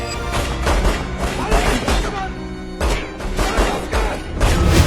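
Rapid bursts of gunfire from a mafia-style gang shootout in Purvanchal, loud, dense, repeated volleys with booming crashes, a short pause near the middle, then more shots.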